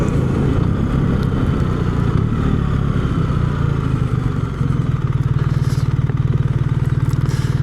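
A BMW R1300 GS motorcycle with no clutch lever pulls away, its engine a steady close rumble that firms into a pulsing, throbbing note about halfway through. No one speaks.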